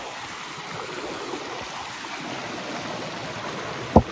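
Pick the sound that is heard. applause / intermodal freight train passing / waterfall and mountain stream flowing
waterfall and mountain stream flowing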